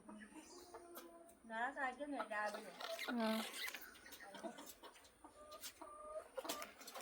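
Chickens clucking nearby in short repeated calls, with other hens chiming in; soft talking underneath and faint rural background.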